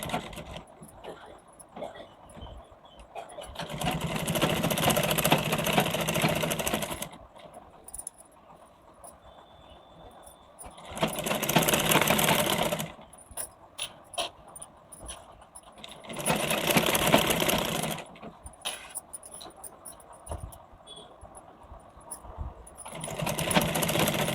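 A sewing machine runs in several separate bursts of steady stitching while a blouse collar is topstitched, with quieter pauses and small handling noises between the runs.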